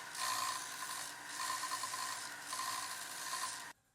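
Belt sander with a rounding fixture grinding the end of a metal pump lever arm, a close, steady abrasive rasp in three long passes with slight dips between them, stopping abruptly.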